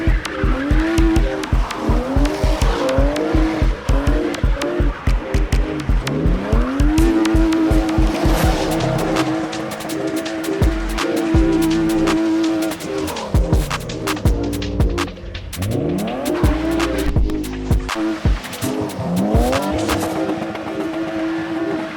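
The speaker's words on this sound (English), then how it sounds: "First, we're gonna see if it can do a burnout." A cheap BMW E36 revs hard through a burnout attempt, engine rising and falling in loud repeated pulls while tires squeal and skid up close for over twenty seconds, with no talking.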